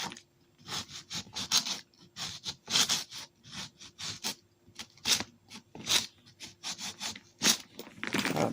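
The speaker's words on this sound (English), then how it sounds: "So I'm going to take a nail file and just give it a" A nail file rubs back and forth over a weak metal purse clasp in repeated close, scratchy strokes, about a dozen short bursts in an uneven rhythm with brief pauses between them.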